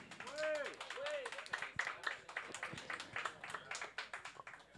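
Scattered audience clapping at a talk or show, uneven and fairly light, with voices and some laughter or calls mixed in over the claps.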